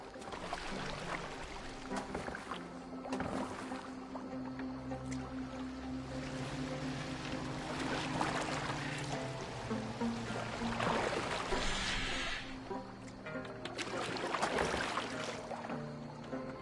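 A boat glides over open water in Assassin's Creed Valhalla, with steady sloshing waves, hull creaks and a low wind bed, interspersed with splashy surges of water at a moderate, fairly soft level.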